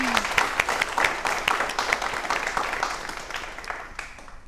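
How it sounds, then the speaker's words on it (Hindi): A studio audience applauds on a television talk show with a fairly fast, even patter of claps that gradually thins and fades, heard at moderate distance. "इस बात पे तालियां तो बनती हैं।"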